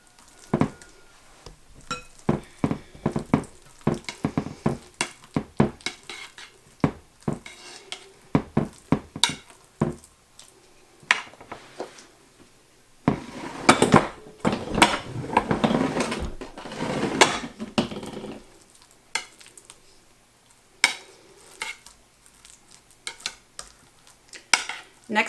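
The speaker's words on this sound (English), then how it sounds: "with an offset spatula, I just get it into every corner. Spread it on the entire platter." An offset spatula spreads dip across a platter for seven layer dip, making repeated soft scraping and smearing strokes in an irregular rhythm, with a denser stretch of continuous scraping midway.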